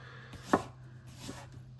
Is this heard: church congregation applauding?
no